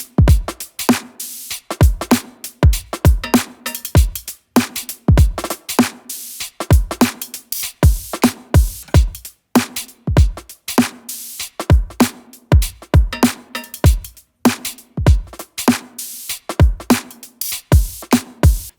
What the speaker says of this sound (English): here is the same beat exactly, but with all the velocities just squashed flat.